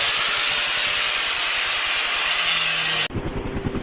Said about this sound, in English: I'm just going in with this thick cutting wheel, going in and cleaning it all up